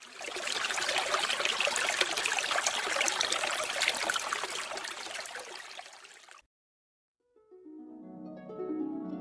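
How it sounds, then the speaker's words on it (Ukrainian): Water trickles and splashes steadily for several seconds, then stops abruptly and gives way to a few soft, ringing musical tones. "Іноді ми говоримо шум води"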